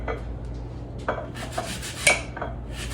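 A knife cuts a washed Honeycrisp apple into thin slices, making a few faint, separate taps and scraping strokes against a board in a quiet kitchen.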